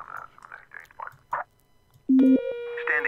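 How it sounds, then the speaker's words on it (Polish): A telephone rings in the 911 Operator emergency-dispatch video game: a loud electronic tone cuts in after a stretch of quiet talk and holds steadily. Brief speech comes before and after it. "Oj, telefon."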